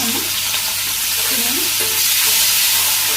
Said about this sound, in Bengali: আবারও তেল দিয়ে দিই, তেল গরম হয়ে গেছে।